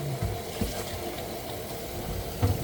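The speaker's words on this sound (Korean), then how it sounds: "이렇게 꽃을 헹궈 주는 것이죠." Peony flowers being rinsed in water for flower tea give soft, close sloshing and gentle splashing, with a few small louder swishes and a faint running-water hiss throughout.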